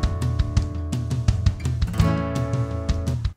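A GarageBand Drummer intro pattern plays as a steady, loud, full mix of a kick, snare and cymbal groove with sustained instruments underneath, running without pause and with no voices over it.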